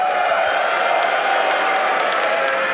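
A live audience at a stream finale cheering, a dense, steady wash of crowd noise with whoops and applause that holds at a loud level throughout.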